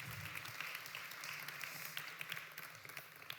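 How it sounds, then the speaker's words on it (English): Audience applause at an AI summit, moderately faint and somewhat distant, with a continuous patter of many hands and a few sharper individual claps standing out across the few seconds. "Give him a huge round of applause."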